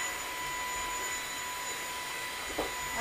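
A quiet cordless vacuum cleaner runs steadily, a soft even whooshing hum of suction with a brief rise near the end as it pulls at a rug; no speech.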